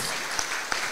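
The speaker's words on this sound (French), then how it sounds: "Je vous demande de l'applaudir," Brief burst of audience applause at a conference on family business succession and entrepreneurship, steady clapping filling the room for under a second.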